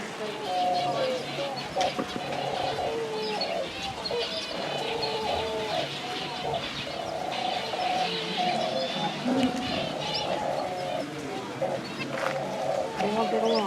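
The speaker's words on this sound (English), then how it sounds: "So this is an aviary. Someone noticed the birds inside." Pigeons or doves coo repeatedly, with scattered chirps, from birds inside an aviary at a garden in Prague, heard steadily under a guide's continuous talking.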